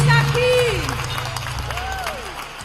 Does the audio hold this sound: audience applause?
yes